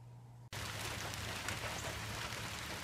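After a short quiet hum, dense heavy rain suddenly fills the sound, a steady loud hiss of pouring water with no voices.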